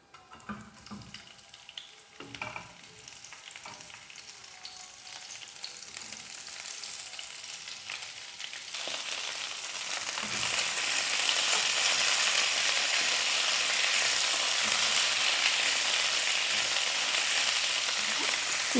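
Chopped cabbage dropped into hot oil for cabbage pachadi, starting with a few soft stirs and clatters, then swelling into a steady, loud hiss of frying that carries on to the end, with no talking.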